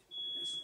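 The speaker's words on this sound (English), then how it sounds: "Don't ignore that alarm." An alarm emits one sustained high electronic beep lasting about half a second, steady and fairly faint, with a soft hiss behind it.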